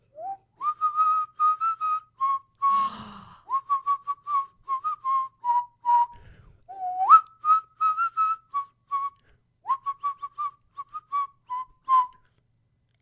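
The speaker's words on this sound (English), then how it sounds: "she whistles very badly because the DM cannot whistle for shit" A woman whistles a tune badly and off-key, a steady run of wavering, wobbly notes with short gaps between phrases, close and fairly loud, with brief rustling partway through.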